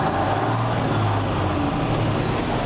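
A 1995 IHC 9300 day cab truck's N-14 Cummins diesel engine running, a loud, steady low rumbling drone heard up close, brief and without voices.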